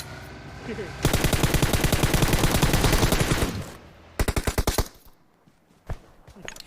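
Gunfire in the mobile game PUBG Mobile: a long, rapid automatic burst lasting over two seconds, then a shorter rapid burst and a final single shot, loud and close, with brief talk around it.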